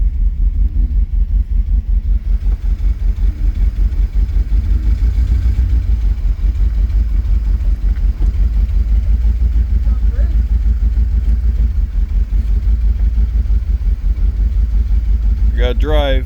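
A 1982 Pontiac Trans Am with Crossfire Injection, parked for 30 years, running while reversing: a loud, close, rough engine rumble with rhythmic clatter throughout, and a person talks over it.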